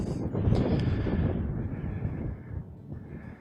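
Strong wind buffets the microphone with a deep, continuous rumble on a chilly hiking summit above Stone Lake. The gusts are loud and close, then ease slightly toward the end.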